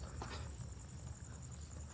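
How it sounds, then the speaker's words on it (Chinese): Crickets chirp at night on quiet Yonaguni island as a steady, faint high trill over a low background hum, with no voices. "只有听到蛐蛐的叫声。"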